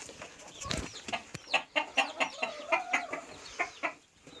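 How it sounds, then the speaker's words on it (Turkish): Several Trabzon Gugulu chickens cluck in a coop in a rapid series of short, bright calls, fairly close, with a brief louder squawk near the start. "Evet tavuklarımız burada."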